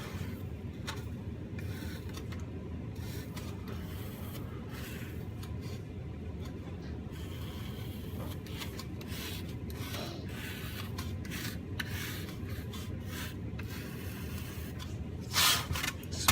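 Foam being carved into a wall with a cutting tool tip, a steady soft rasping and scraping that runs continuously at close range and low volume, with no voices.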